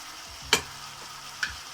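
Chicken cooking with masala in a pan for hariyali chicken, giving faint frying hiss with two brief sharp stirring clinks, one near the start and one near the end.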